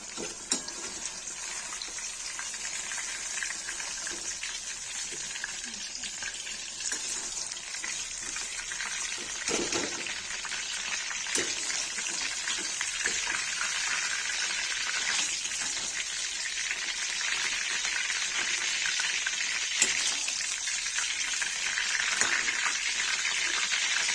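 Paneer and eggplant frying in a pan, a steady hiss and crackle of oil that continues without a break and grows slightly louder toward the end, close and alone with no talking.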